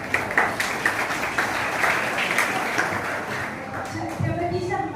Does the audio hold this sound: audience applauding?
yes